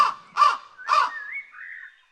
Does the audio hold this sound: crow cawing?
yes